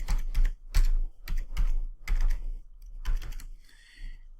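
Fingers type a password on a computer keyboard in a short burst of distinct, uneven clicks, close and clear, with no talking.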